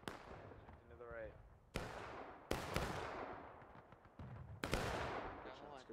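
Musket volleys in the War of Rights video game crack out in several loud, separate bursts with echoing tails, while a voice is briefly heard between shots.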